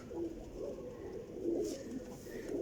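Pigeons coo softly and repeatedly, low rolling calls fairly close among high-flying champion birds, steady and continuous with no talk.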